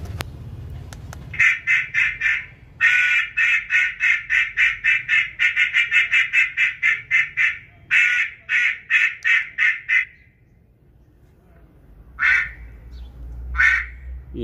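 A mallard duck call blown in a rapid run of loud, close quacks, about a dozen in a steady rhythm, then a pause and two more isolated quacks near the end.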